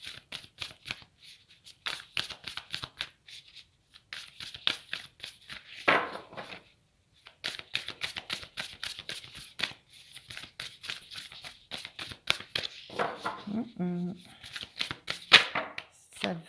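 Tarot cards shuffled by hand for a reading, quick crisp riffling bursts repeating in short runs, close and clear, with occasional speech between the bursts.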